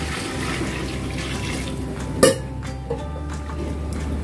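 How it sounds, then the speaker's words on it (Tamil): Water flows steadily into a large pot of chicken biryani with soaked rice, a continuous pouring wash with one sharp clank of the vessel midway and lighter knocks after, close and fairly loud with no voices. "தண்ணி வந்து இப்போ இதை வந்து சேர்த்துக்கலாம்."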